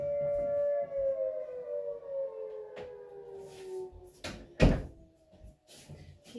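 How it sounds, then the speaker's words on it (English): A town civil defense siren calls out volunteer firefighters in a rural area, its long wailing tone slowly falling in pitch from a distance, with a door closing nearby partway through. "If you hear that big siren"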